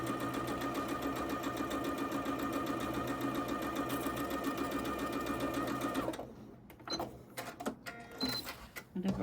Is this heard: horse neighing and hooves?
no